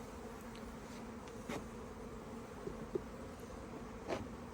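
Honeybees buzz around a hive frame during an inspection, a faint, continuous drone with a few soft knocks and clicks scattered through it.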